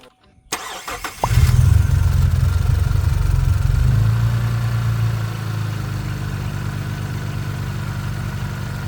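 A car engine fitted with a new timing chain kit cranks and catches, then settles into a steady, even idle that stays close and loud throughout.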